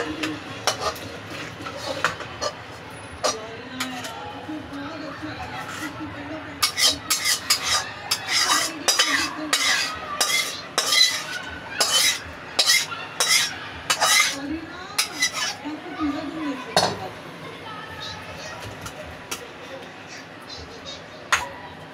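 Chicken and potato gravy is poured and scraped from a pot into a serving dish, with a dense run of metallic spoon clinks and scrapes against the pan, loud and close, with some voice in the background.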